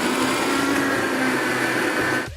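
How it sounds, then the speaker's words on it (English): A countertop blender whirs steadily at high speed for about two seconds, blending a smoothie made with water instead of extra sugar, then cuts off abruptly at the end. "So throw that all into the blender."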